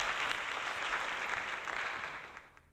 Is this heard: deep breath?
no